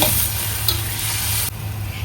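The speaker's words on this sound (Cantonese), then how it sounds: "落咗蠔油汁之後就撈一撈佢" Oyster sauce is stirred into braised chicken wings and potatoes in a hot pan, giving a continuous close sizzle with a soft scrape partway through and no talking.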